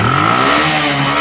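Bajaj CT 100 motorcycle with a faulty primary coil, now battery operated, its engine running loud and close with a steady mechanical hum and slight clatter.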